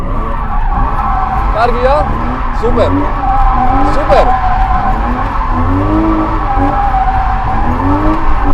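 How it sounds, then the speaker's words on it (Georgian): A car drifting on track, tires skidding and squealing in repeated rising-and-falling sweeps over a loud engine, with short spoken exclamations alongside. "კარგად გავუშვი დრიფტში მანქანა"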